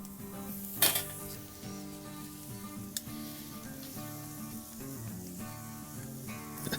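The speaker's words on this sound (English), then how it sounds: "I'm just gonna clean off that grill grate." Grill grate being scraped clean between flips while tri tip sears over a hot grill: metallic scraping and clinking strokes over a faint steady sizzle, with one sharp clank near the start.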